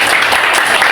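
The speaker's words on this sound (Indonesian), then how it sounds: "Tepuk tangan untuk Suster." Brief burst of dense hand clapping from an assembled group greeting the elected candidate at a Catholic council election meeting, loud and close, with a faint voice underneath.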